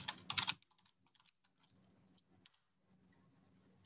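A computer keyboard is typed on while entering a folder name, with a quick dense burst of keystrokes at the start followed by sparser, quieter clicks and taps, close and without speech.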